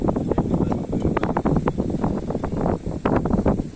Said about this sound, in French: Ben non, le vent il passe là, entre deux.